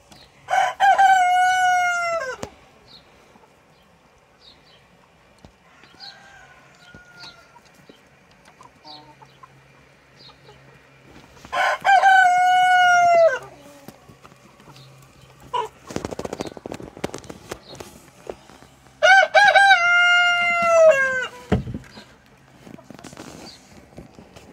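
Roosters crow three times in long, loud calls at a backyard chicken coop, with soft clucking and scattered knocks and rustling between the crows.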